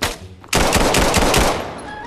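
Rapid automatic gunfire in the VR shooter Vail, a loud, close burst of about a second of fast repeated shots that then fades into a ringing tail.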